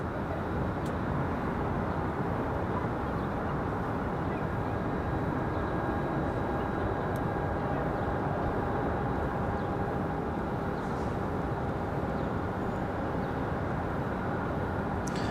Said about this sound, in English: So Air Canada 1069 back to Vancouver, that A220-300.